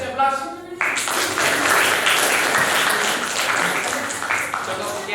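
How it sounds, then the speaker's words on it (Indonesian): An audience claps steadily in a room, a dense wash of applause that starts just after a brief spoken voice and carries on loudly to the end. "Kasih aplaus."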